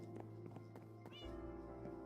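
A cat meows once indoors, a brief rising call against a quiet room with faint clicks and background hum.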